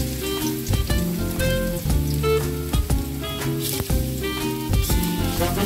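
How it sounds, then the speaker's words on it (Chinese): Shiitake mushrooms stir-frying in a wok, a loud, dense sizzle with rhythmic spatula scrapes and clanks against the metal, close up and unbroken, with no one speaking. "先炒香菇"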